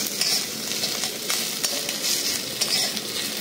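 Potato pie curry being stirred in a pan after salt goes in, a continuous soft sizzle with scattered scraping and clinking strokes, moderately close, no voices.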